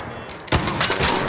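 A gunshot in a first-person shooter video game, a sharp broadband burst near the middle followed by a sustained noisy tail of continued game action.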